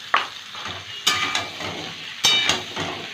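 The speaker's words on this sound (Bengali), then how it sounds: "ভালো করে ভেজে নেব কুমড়োটা।" Pumpkin pieces frying in hot oil with salt and turmeric, a soft continuous sizzle broken by a few sharp clatters of a spatula stirring against the pan.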